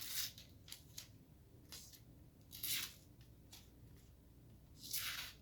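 Dollar Tree multi-tool scissors cutting: several brief snips at irregular intervals, with three longer, crisper cuts standing out, close and faint in a quiet room.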